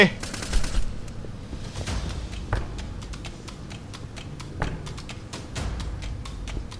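Bursts of rapid gunfire in the game Retail Royale, a string of sharp shots that is loud at the start and then repeats at moderate volume over a low rumble.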